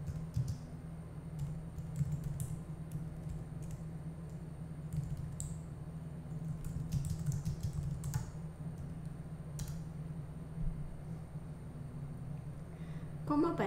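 Book title being typed on a computer keyboard, with irregular bursts of key clicks over a steady low hum, moderately close and alone.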